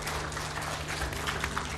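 Audience applauding the Chair at a devolution conference, a steady dense wash of clapping from many hands filling the hall, moderately loud and continuous with no speech over it.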